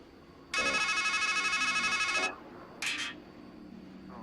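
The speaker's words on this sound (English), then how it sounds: "It's a payphone." Payphone in the video game Strangeland ringing in a steady electronic trill for about two seconds, then a brief second burst, fairly loud over a quiet room tone.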